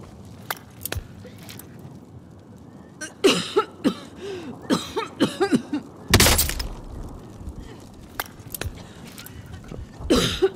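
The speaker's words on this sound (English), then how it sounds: "They're coughing." Enemies cough repeatedly in a first-person shooter video game, with short harsh bursts scattered across the stretch amid gunfire-like thumps and a loud burst near the middle.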